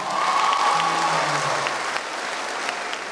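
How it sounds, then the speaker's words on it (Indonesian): A lively stand-up comedy crowd at a university venue in Surabaya applauds steadily, a dense wash of clapping with a voice faintly carrying underneath before it thins slightly toward the end. "Boleh minta tepuk tangan dulu dong."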